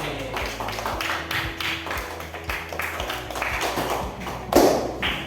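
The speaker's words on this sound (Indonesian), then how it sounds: "tepuk tangan untuk kelompok B" Classroom applause for a student group, scattered hand claps and taps ringing out at moderate distance, fairly quiet, with a louder burst near the end.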